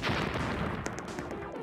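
A Roblox game explosion gives a dense, loud rumbling blast that fills the moment, with a couple of sharp cracks partway through and no talk over it.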